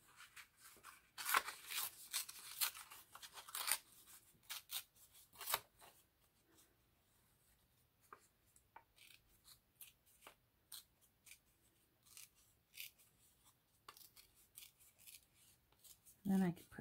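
Paper being torn by hand at a home craft table, heard as faint crackling rips and rustles in short bursts with quiet pauses between, close by and soft, with a brief voice near the end.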